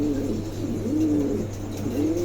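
A pair of pigeons coo nearby in repeated soft, rolling calls that rise and fall at roughly regular intervals over a steady background hum.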